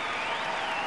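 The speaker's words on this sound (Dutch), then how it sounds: "En dat vindt het publiek ook, die haar een staande ovatie geeft." A figure skating audience in Canada giving a standing ovation, a brief dense wash of applause from a large crowd, steady and fairly distant.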